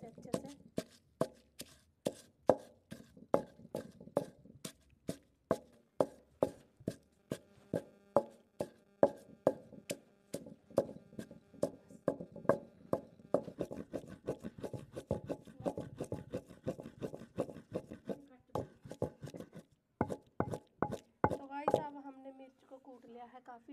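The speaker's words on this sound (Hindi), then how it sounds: "अब हम इन्हें कूट लेते हैं अच्छी तरीके से" Steady, repeated pounding of onion, tomato and coriander for a homemade chutney, dozens of sharp thuds in a quick, slightly uneven rhythm, close and loud, with a brief pause near the end.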